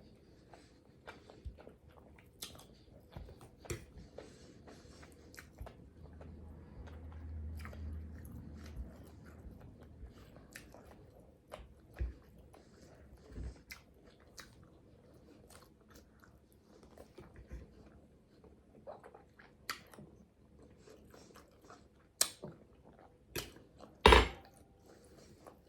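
Crunchy chewing and biting on asparagus during a salmon and asparagus mukbang meal, soft mouth sounds with a few sharp close crunches, the loudest near the end.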